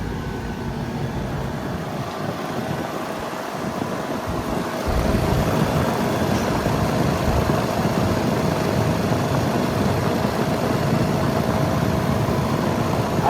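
Two residential central air conditioners, a 2019 Thermal Zone and a 2013 Arcoaire 5-ton unit with a scroll compressor, drone steadily with a broad fan rush and low compressor hum, growing noticeably louder partway through.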